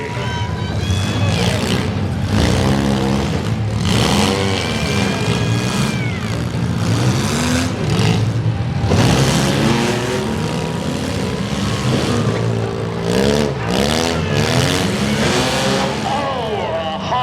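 Loud engines rev and roar in waves as youth compact cars grind and bang against each other at the Wood County Fair Demolition Derby, with an announcer talking over the racket and crowd noise.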